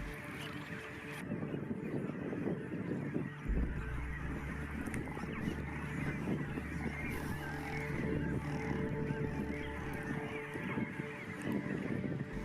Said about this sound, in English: The close proximity of nests inevitably results in conflict and bickering between neighboring birds